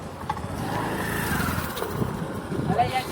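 A motorcycle engine idles and putters at a distance, low and steady with slight revs, mostly under people talking casually nearby.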